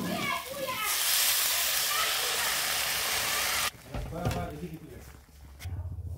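Water poured into a hot frying pan of ghugni, bursting into a loud hissing sizzle that holds for a few seconds, then cuts off abruptly to quieter kitchen sounds and a voice speaking.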